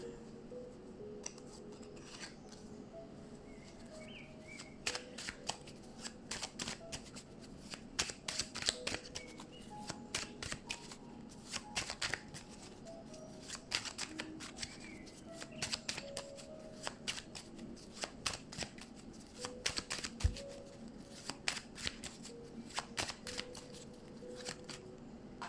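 Oracle cards being shuffled by hand, a long run of close, crisp riffling and sliding bursts with short pauses in between, no talking.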